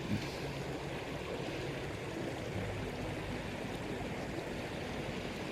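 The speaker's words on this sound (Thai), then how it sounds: "ตรงนี้น่าจะเป็นแม่น้ำคลองนะครับ" A river or stream flows steadily beside a campsite in Mueang Khong, Chiang Dao, in northern Thailand, making a continuous broadband rush of water with no voices.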